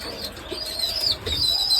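Pigeons kept at home give soft, low cooing with light rustling and faint wing flutters, steady and close throughout.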